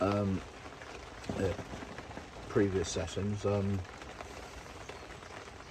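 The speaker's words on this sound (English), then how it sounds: "noise is the rain running off my bivvy." Rain streams and drips steadily off a fishing bivvy at a carp swim, a constant close wash of water that runs under a man's speech through most of the clip.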